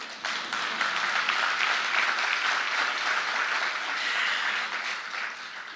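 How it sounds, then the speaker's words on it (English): Steady crowd applause from an audience at a formal ministry event in Kenya, a dense wash of many hands clapping that holds evenly for several seconds with no talk over it. "Oh, you can clap for me."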